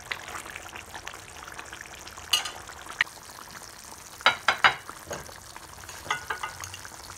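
A rui fish kalia curry bubbles and sputters in a pan, a low simmering hiss broken by several sharp spits and pops, with a quick cluster of crackles midway and more toward the end, no voices.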